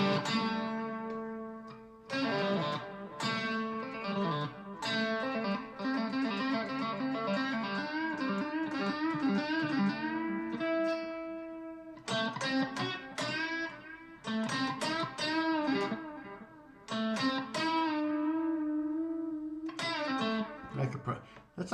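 Electric guitar played with heavy reverb and low gain, a lush, washy tone ringing through phrases of sustained notes and chords with brief pauses between them.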